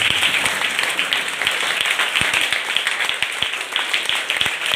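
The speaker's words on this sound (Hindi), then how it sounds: "सारे बच्चे एक बार फाल्गुनी के लिए खड़े होकर ताली बजाएं।" Children standing and clapping for a classmate at a children's poetry recital, a dense, even burst of many small hands that carries on steadily throughout, with a few louder individual claps.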